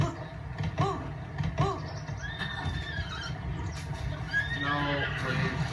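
Horse neighing and whinnying in The Legend of Zelda: Breath of the Wild, several clear whinnies over steady game ambience with hoof clip-clop, fairly close and loud.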